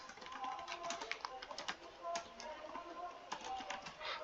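Rapid typing on a computer keyboard while entering text into a spreadsheet, a dense run of close, crisp key clicks with brief pauses and a few louder strikes, steady throughout.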